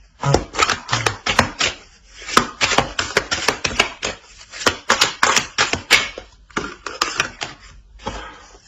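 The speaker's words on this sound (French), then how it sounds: "Et puis je mélange le jeu." A deck of playing cards being shuffled and handled close up, with repeated crisp riffling bursts and slaps in an irregular rhythm, no talking.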